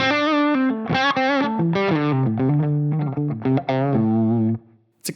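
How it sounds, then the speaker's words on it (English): Electric guitar played through a Line 6 Helix with a subtle reverb, a clean melodic phrase of distinct notes and slides, close and clear, ending with a short decay into near silence. "It's a kind of sound where it's almost not even apparent that I have a reverb on"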